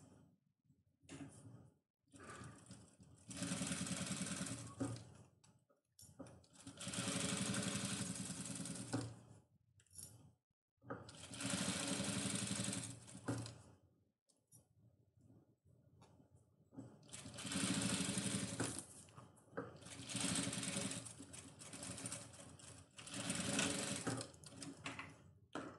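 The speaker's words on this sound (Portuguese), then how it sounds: "Vou costurar até onde eu marquei meu pique." A sewing machine stitching fabric while making a pocket for an oral hygiene kit bag, running in several sustained bursts of whirring with short pauses between them, close and steady, with no talk.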